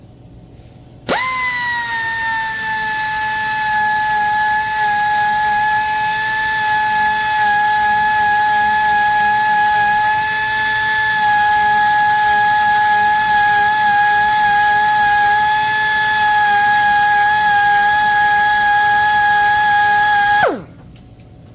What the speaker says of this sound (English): do not touch the battery with this carbide rasp